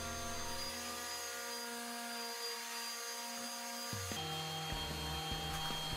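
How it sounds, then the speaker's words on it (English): A steady high-pitched motorized whine from an electric sander on a wooden bar stool runs throughout, its tone shifting down partway through like a power tool working against a surface. "before moving to my electric sander."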